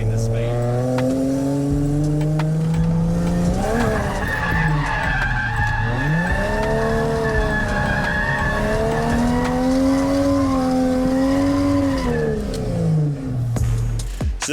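Drift car making a clutch kick corner entry in second gear, engine revving hard with sweeping pitch changes and a sustained tire squeal through the slide, loud and close throughout.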